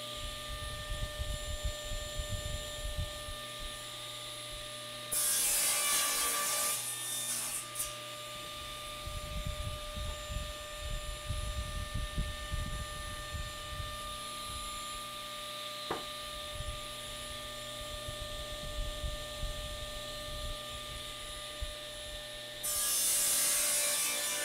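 Saw cutting defects out of lumber stock for router table legs and stretchers, with a couple of loud bursts of power-saw cutting separated by quieter rasping and rubbing over a steady workshop hum.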